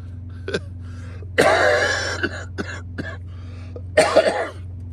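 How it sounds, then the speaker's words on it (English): Several coughs and throat-clearing bursts, close and loud, spaced irregularly over a steady low hum, with no talking. "Still got a cough, but oh well."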